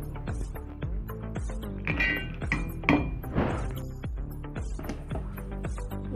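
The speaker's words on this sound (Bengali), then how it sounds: "এই চকলেটগুলোকে গুঁড়া করে আমি প্রথমে এগুলোতে অল্প অল্প করে দিয়ে দেবো।" Chocolate pieces crushed into powder for homemade ice cream, heard as a steady run of close, sharp knocks and clinks repeating at a quick, even rhythm throughout.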